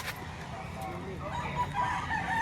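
Sweater breed rooster crowing at a busy poultry auction market, a sustained call amid crowd noise and nearby chatter, with people talking in the background.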